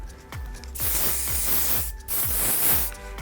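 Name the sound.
spritz of hairspray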